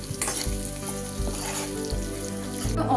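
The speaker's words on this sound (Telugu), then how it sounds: "ఆనియన్స్ అయితే వేగుతున్నాయండి" Onions frying in a pan with curry leaves and green chillies for egg fried rice, a loud continuous sizzle with regular stirring scrapes, no talking.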